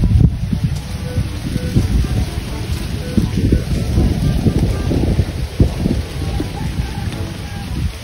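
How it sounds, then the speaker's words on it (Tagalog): Strong gusty wind buffets the microphone in low rumbling bursts, loud and continuous throughout. "Sarap po ng hangin."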